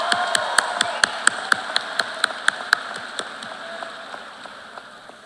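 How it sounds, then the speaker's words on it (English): Law school graduates at a graduation ceremony applaud in a sparse, distant hall; a handful of sharp claps ring out with reverberation, thinning and fading over a few seconds. "Give yourself applause."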